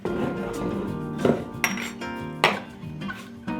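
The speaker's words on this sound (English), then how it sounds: "We're gonna start by grabbing a Collins glass." A Collins glass clinks and knocks as it is grabbed while setting up a mojito, several sharp bright glassy strikes ringing out close by, spaced irregularly with small handling rattles between.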